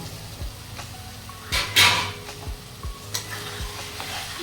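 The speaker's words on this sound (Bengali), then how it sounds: "ভালো করে মশলাটা কষিয়ে নেব যাতে কাঁচা গন্ধটা না থাকে।" Spice masala with chopped tomatoes for a Bengali katla fish and potato curry is stir-fried in a pan, a close sizzle broken by a few spatula scrapes and knocks, one louder burst partway through and no speech.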